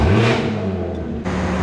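The engine and exhaust of a BMW G80 M3 rev loudly and close by, settle into a sustained drone, then surge again near the end.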